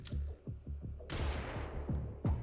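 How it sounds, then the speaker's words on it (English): Flashbang in the video game Xenonauts 2 going off with a sudden sharp burst that decays into a noisy rumble, set among repeated thudding gunfire-like impacts, no voices. "Alright, flashbang!"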